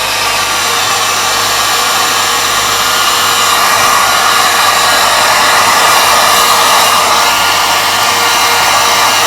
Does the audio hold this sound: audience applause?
no